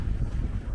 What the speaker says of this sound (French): Oh, le vent, ah ça fait du bien.